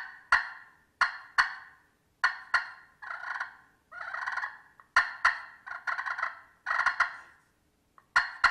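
A turkey hunter imitates a wild turkey's clock call with sharp, repeated clucks and short yelping runs. The calls come in spaced bursts, close and clear against silence, and no one speaks.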